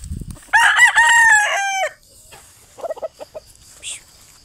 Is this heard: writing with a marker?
no